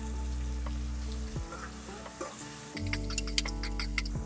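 Chopped tomatoes are tipped into an oiled frying pan and stirred for an aloo paneer sabji, sizzling steadily with a few scraping stirs and a louder crackling burst near the end.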